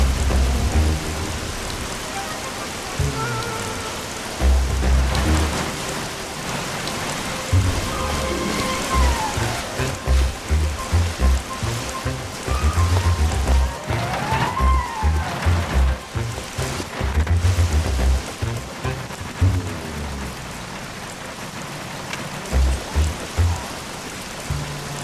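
Rain in the PC version of the Bee Movie Game (2007), a loud, continuous hiss of falling rain layered with rumbling, gliding tones and repeated low thuds.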